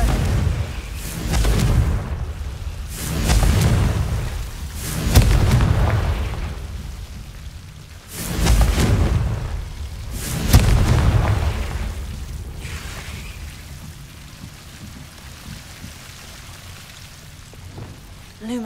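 Repeated fiery spell blasts from a Hogwarts Legacy Confringo cast, several booming bursts about every two to three seconds, loud and rumbling, with game speech around them.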